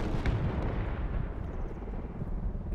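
Mortar fire in the military shooter game Project Reality: a dense, continuous low rumble of distant explosions and artillery-like booms, loud and steady throughout with no talk.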